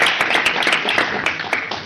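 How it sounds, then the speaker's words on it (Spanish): Audience applause at a psychology presentation on coercive persuasion, a loud, close burst of many hands with distinct individual claps standing out in an uneven rhythm. "Un aplauso de nuevo"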